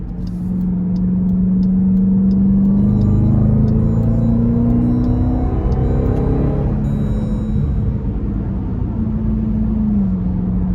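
A 2023 Dodge Durango SRT Hellcat with a supercharged 6.2 V8 accelerates from inside the cabin, its deep engine drone climbing steadily in pitch, holding loud, then easing off near the end.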